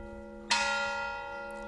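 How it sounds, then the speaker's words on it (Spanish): A church tower bell strikes once, loud and close, its bright metallic tone ringing out and slowly decaying over a low steady hum. "Las campanas de la torre. Las tenemos aquí, dándonos las buenas tardes."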